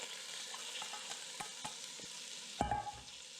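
Chopped onion hitting a hot pot for cheesy corn chowder, giving a steady faint sizzle with light scraping and stirring taps, then a brief louder burst near the end.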